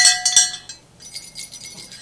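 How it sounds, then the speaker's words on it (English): Small bells hung on hikers' backpacks to warn off bears jingle in a few quick, bright bursts, followed by a softer scattered tinkling, all close and without talk. "We put bells on our backpacks,"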